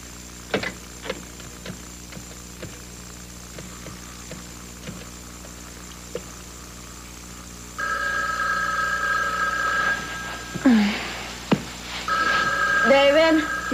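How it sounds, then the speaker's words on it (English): A telephone rings with a steady electronic warble in an indoor drama scene. Faint clicks come first, then the ring continues while people talk over it. "your phone's ringing"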